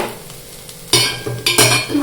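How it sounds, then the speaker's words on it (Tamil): Tamarind water bubbles and sizzles in a hot pan, with a couple of sharp bursts as bitter gourd is stirred in; no talking. "இந்த பாவக்காயை புளி தண்ணி கொதிக்க ஆரம்பிச்சிருச்சு."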